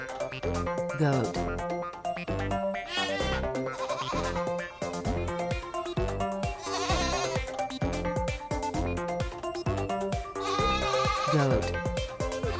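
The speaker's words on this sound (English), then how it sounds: "goat." Repeated wavering goat bleats come every couple of seconds, mixed into a loud, continuous bouncy music track that never drops away.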